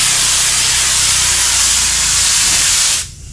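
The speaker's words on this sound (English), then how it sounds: "And I'm spraying it." A loud, steady aerosol spray hisses continuously for about three seconds, close up, while spraying a car headliner, then cuts off abruptly, leaving quiet room tone.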